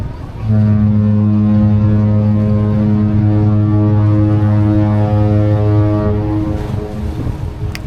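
The cruise ship Virgin Valiant Lady sounds its deep horn while departing Portsmouth, one long, loud, steady blast lasting about six seconds before it cuts off, with wind noise around it.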